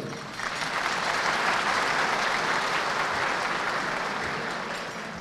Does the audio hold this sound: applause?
yes